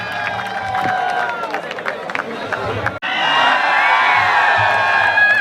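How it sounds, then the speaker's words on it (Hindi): Audience at a police training college cultural programme cheering, whooping and applauding to welcome performers Naveen Tyagi and Vijay, loud continuous crowd noise with shouts, a brief cut midway, then a sustained roar. "जोरदार तालियों से स्वागत कीजिए नवीन त्यागी और विजय का"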